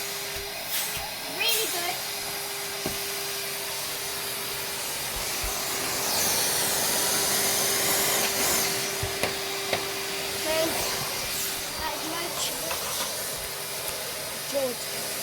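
A George vacuum cleaner running without its brush or head attachment gives a steady airy suction hiss with rising rushing surges, heard close and fairly loud with light background noise.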